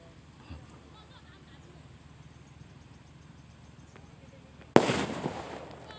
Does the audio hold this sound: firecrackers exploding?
yes